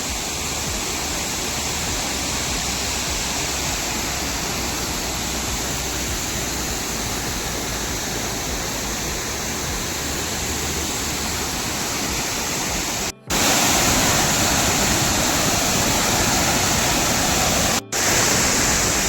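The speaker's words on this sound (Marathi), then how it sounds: "हा एवढा मोठा वॉटरफॉल आहे" The waterfall at Dhutpapeshwar temple pours with a steady, dense roar that fills the whole stretch, briefly dropping out twice near the end.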